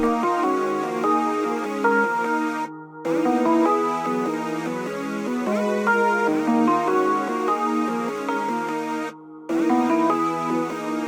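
A beat made in FL Studio, layered bell-like sounds stacked with synths, plays loud and continuous chord progressions with two brief dropouts of silence, no voices present.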